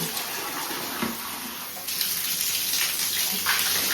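Tap water gushes steadily into a tub for a child's bath, loud and close, a continuous rushing splash that grows a little fuller partway through.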